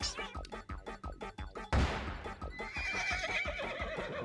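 In the video game Miitopia, a horse lets out a whinny amid rapid clip-clop hoofbeats, followed by a sudden crash and a sustained rumbling game effect.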